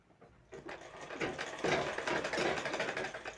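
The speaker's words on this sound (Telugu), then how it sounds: "ఇప్పుడైతే నేను దీని పైనకించి చిన్నగా కుట్టు అనేది వేసుకుంటున్నాను" A sewing machine running a small line of stitches on a blouse lining with thread piping, starting quietly and then whirring in a quick mechanical rattle that stays close and fairly soft.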